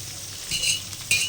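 Chopped large onions sizzle and fry in a pan for a country chicken fry, with a steady crackle, a few stirring scrapes and light metallic clinks close by.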